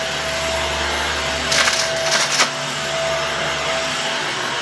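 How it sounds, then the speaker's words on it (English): A Shark vacuum cleaner running over an old carpet in a mobile home: a steady motor whine holds throughout, with a brief burst of crackly, gritty suction noise in the middle as debris is pulled up. "vacuum cleaner."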